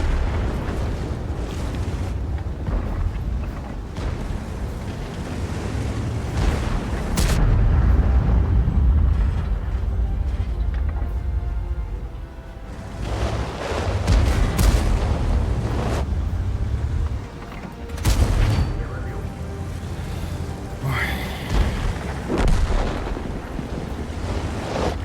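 Cannon shots from a KV-4 Kreslavskiy Soviet heavy tank in a video game, a few loud booming blasts with rumbling low-end tails spread across a long stretch, over steady engine-like drone without speech.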